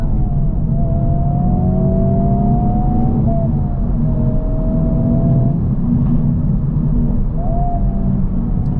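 A 2024 Honda Civic Type R with 315 horsepower pulling hard past 5,000 RPM, its engine droning loud and steady from inside the cabin, with rising whine as it climbs through the gears.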